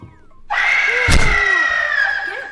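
A loud, sustained high-pitched scream from the Roblox horror game Piggy bursts in close and piercing, with a thud partway through, holding for about two seconds.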